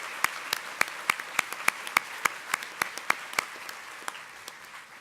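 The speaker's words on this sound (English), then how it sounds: "please join me in a round of applause for our CSU Brass Ensemble and our soloist, Delaney Leffel, who's a recent alum" Light, evenly spaced clapping from an audience at a university commencement ceremony after a brass ensemble and soloist, faint and somewhat distant, with individual claps clearly separated rather than a full roar.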